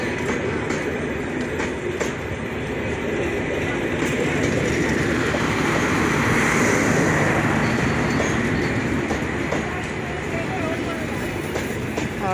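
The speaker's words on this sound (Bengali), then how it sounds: "ট্রেনটি বর্তমানে সৈয়দপুর ইন করলো।" Simanta Express intercity train, a down Khulna-bound service hauled by a locomotive, entering Saidpur station, with a continuous loud rumble and wheel clatter of the passing carriages and faint squeals near the end.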